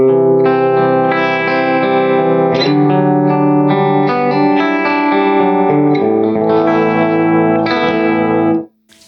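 Clean electric guitar through an Orange AD30 amp, a cream-coloured guitar strumming and picking chords in a steady flowing pattern, bright and close, ringing out alone before cutting off at the end.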